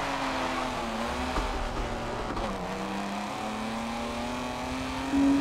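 BMW E36 M3 engine in a drifting video game, a loud sustained high-revving drone that dips and climbs with shifts, steady and close with hints of tire noise.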